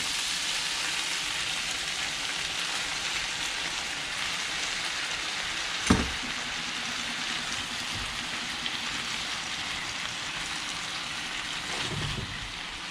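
Ackee simmers steadily in a pan with a continuous, even hiss like light rain, broken by a couple of brief knocks.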